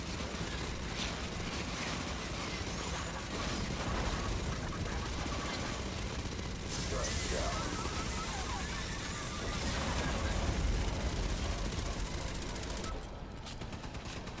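Sustained gunfire from Aliens: Fireteam Elite, dense rapid bursts running almost without a break over a noisy combat mix, with a louder stretch near the middle and brief talk in the background.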